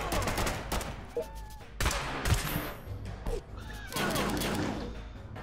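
Loud bursts of rapid gunfire from the video game Fallout Shelter, several volleys with brief pauses between them, close and harsh.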